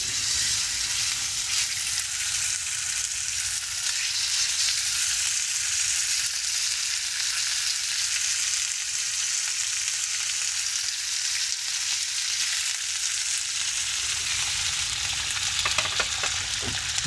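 Pork steaks fry steadily in a single pan, a dense continuous sizzle holding close and loud throughout with faint scraping near the end.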